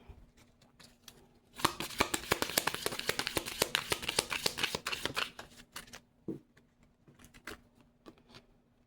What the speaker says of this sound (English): So I'm going to pull one more card from here.